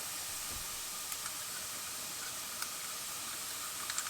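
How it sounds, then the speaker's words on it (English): Onions sizzle in hot oil in a pan, a steady, soft hiss with occasional faint pops and ticks, even and continuous throughout with no talking. "It's sizzling away nicely"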